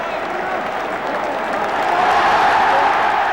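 A large football stadium crowd applauds and cheers during the 1975 FA Cup Final trophy presentation, a dense continuous roar of clapping that swells slightly toward the end.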